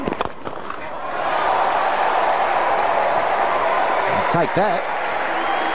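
A small crowd at the 2005 New Zealand vs Australia Test match in Auckland cheers a boundary with a sustained, broad roar that swells after a short pause, while a voice speaks briefly.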